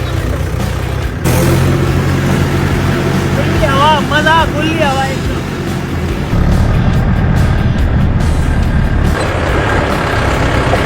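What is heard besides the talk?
tractor driving with engine running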